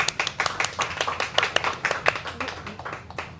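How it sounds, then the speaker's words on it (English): Audience at a live talk with a giant clam scientist clapping for a good answer, a brisk uneven patter of individual handclaps from a small group, fairly close and loud, lasting a few seconds. "why not give her a round of applause?"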